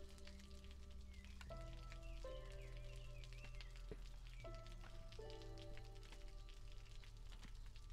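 Light drizzle patters in the video game Against the Storm, a soft steady hiss of raindrops beneath a sustained, layered musical score, with no talking.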